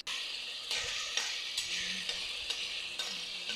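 Cumin, onion, tomato and garlic sizzle in hot oil on a pan for a spinach-paneer dish. A close, steady frying hiss runs throughout, broken by several soft stirring scrapes at regular intervals, with no talking.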